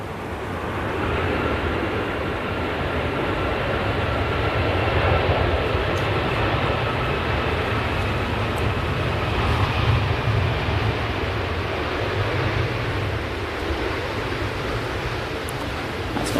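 Airplane landing at Manchester Airport, a steady broad roar of engines and rushing air heard from nearby, continuous and loud throughout with no talking.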